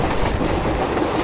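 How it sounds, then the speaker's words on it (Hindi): Steady rumble and clickety-clack of a train rolling along the track in the MSTS/Open Rails simulator, a Pune–Bhusaval express in Khandesh, continuous and fairly loud throughout with no talk. "अब देखते हैं आगे कौन कौन सी ट्रेन हमें क्रॉस करती है"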